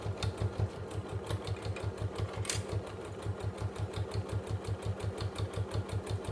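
A domestic sewing machine runs steadily, stitching backwards over elastic while making a fabric card holder, its rapid, even needle rhythm pulsing evenly and close throughout with no talk.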